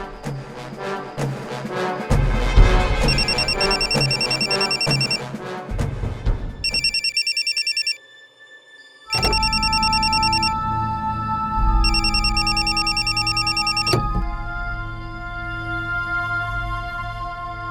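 A telephone rings in a dramatic TV crime show, its electronic ringtone repeating in regular bursts over a loud music bed that cuts out briefly before the ringing carries on, with no talking.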